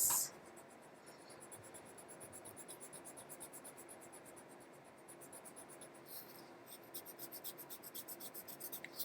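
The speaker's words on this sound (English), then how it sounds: "And then I'm going to erase" Pencil lines being erased on paper, a faint close-up rhythmic rubbing of an eraser in repeated strokes, quiet and steady throughout.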